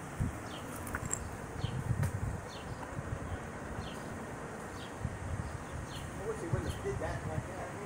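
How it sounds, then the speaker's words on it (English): A huge cloud of honeybees swarms outdoors, filling the air with a faint, steady buzzing hum and occasional louder passes near the microphone, with wind and rustling in the background. "was just this huge cloud of those honeybees right there"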